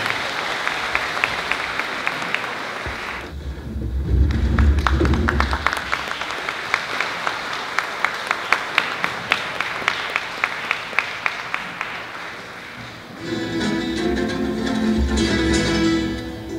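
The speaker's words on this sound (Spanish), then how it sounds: "Regálenle un fuerte aplauso," An audience claps after a municipal philharmonic orchestra's performance, a sustained round of applause, with loud sharp individual claps standing out, briefly swelling with voices and music near the start and again toward the end.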